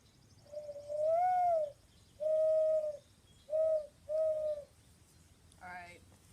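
A mourning dove call imitated by blowing into cupped hands, four soft hollow coos in a steady rhythm, close and clear over quiet background.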